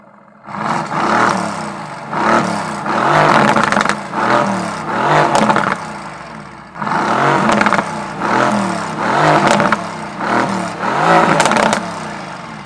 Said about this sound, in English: One reason why I like putting this car in Sport Plus mode is because the exhaust sounds like this.